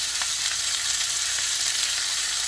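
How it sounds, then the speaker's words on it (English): Prime rib sears in a pan on a stove, giving a steady, close, dense sizzle and crackle with no pauses and no talking. "So I'm just trying to sear it just to get it some color"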